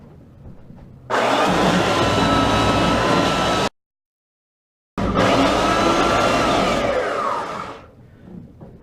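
A belt sander grinds popcorn texture off a wall, a loud steady whine and roar that starts abruptly, cuts out for about a second, then resumes before winding down, close by with no voices.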